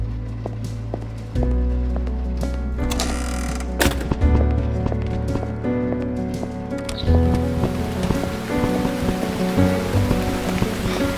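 Steady rain falls in the horror video game Burnhouse Lane, a dense, continuous hiss of drops, with brief sharper spatters and low tonal layers running beneath it.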